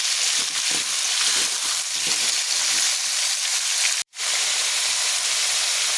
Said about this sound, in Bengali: কুমড়ো আর আলুটা একটু ভালো করে ভেজে নেব